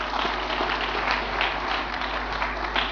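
Congregation clapping hands for Jesus at a church gathering of the Tabernacle Church of Jesus Christ International, a steady dense wash of many hands with no voices, fairly loud and continuous throughout.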